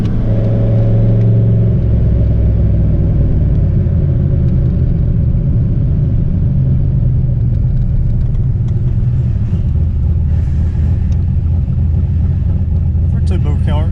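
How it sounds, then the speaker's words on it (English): A turbocharged Ford Mustang Foxbody engine rumbles loud and close throughout, a deep steady exhaust burble with slight shifts in pitch and a voice talking over it. "For a turbo car, it still has a nice little rumble to it."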